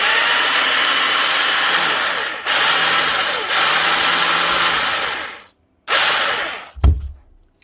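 A cheap SDS drill with a struggling motor runs in several loud bursts, its whine wavering and sagging in pitch, cutting out briefly between runs and ending with a short knock.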